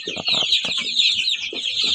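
A broody Kuchin hen clucks close by in a quick string of short, throaty bursts, with brief pauses between, against a continuous thin high-pitched background.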